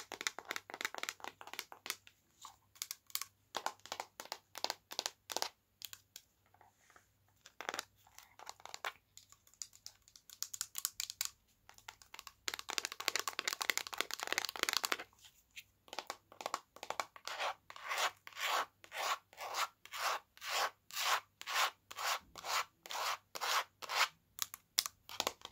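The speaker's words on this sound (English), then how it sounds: "So I'm just going to get a bit of sellotape." Sellotape pulled in repeated short strips from a tape dispenser during a tattoo shop role-play, crisp ripping rubs in rapid rhythmic bursts, close and fairly quiet, with no talking.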